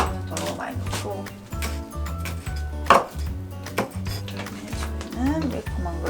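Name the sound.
chopping green onions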